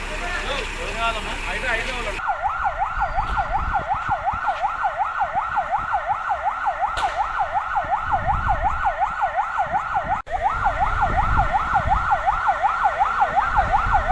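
Fire engine sirens wail in a fast, regular up-and-down cycle at a scrap godown fire in Kushaiguda, Hyderabad, loud and close over rumbling street noise, with a brief break before the wailing resumes.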